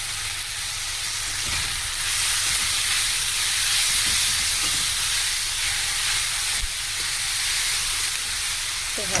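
Ginger, garlic and green chilli fry in a pan with a loud, steady hiss and sizzle lasting throughout, with faint stirring touches underneath, close and continuous.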